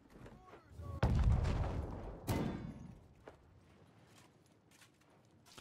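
Friendly gunfire in a video game: two loud, sharp shots about a second apart, each followed by a decaying rumble, then a few fainter distant pops.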